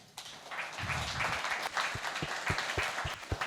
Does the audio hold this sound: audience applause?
yes